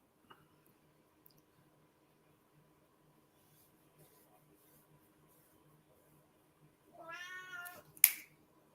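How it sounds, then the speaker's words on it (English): A single short cat meow rises near the end of a long stretch of near silence indoors, followed by a sharp click; faint and brief, with no talk over it. "You can hear him, can't you? I heard the meow."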